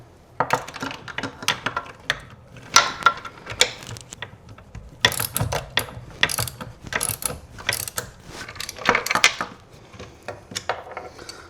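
A bolt being tightened on a Dillon RL1100 reloading press, with repeated ratcheting clicks and metallic clunks in irregular bursts, close and fairly quiet, with no talking.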